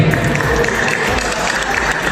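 An audience claps together at a prize-giving ceremony of a pigeon-flying competition, a dense continuous burst of applause heard close throughout the short moment.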